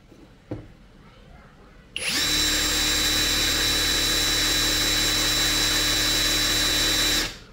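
A cordless brushless impact wrench runs in auto stop mode, a loud steady high-pitched motor whine starting abruptly after a brief click and holding for about five seconds before cutting off.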